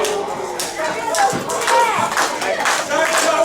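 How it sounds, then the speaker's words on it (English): A pro wrestling crowd late in a match claps and cheers loudly and continuously, with voices and scattered shouts mixed into the rhythmic clapping. "The crowd are coming alive here."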